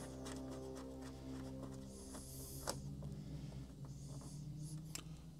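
A Positronneur part being screwed onto a Ghostbusters proton pack toy, with soft close creaking and scraping of plastic threads plus faint clicks over a low background hum.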